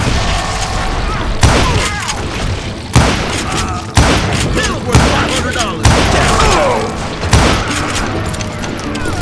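Gunfire in the Western shooter game Call of Juarez Gunslinger, a series of heavy booming shots and volleys every second or so, loud and close, with ricochets and clatter between blasts.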